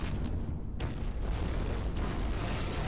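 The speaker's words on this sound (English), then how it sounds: "Well, that was a big explosion right there." Big explosion in the PS1 game Judge Dredd, a dense, sustained roaring boom filling the whole moment with loud, rough noise and no pause.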